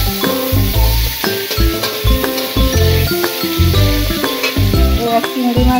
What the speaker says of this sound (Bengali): এবার পেঁয়াজ দিয়ে দিচ্ছি